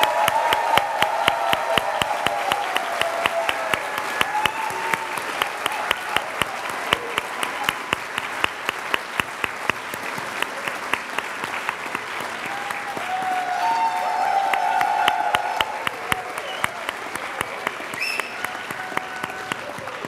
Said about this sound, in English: let's have one another huge round of applause for all of our graduates